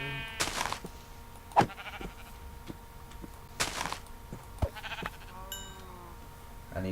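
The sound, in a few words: sheep bleating in Minecraft video game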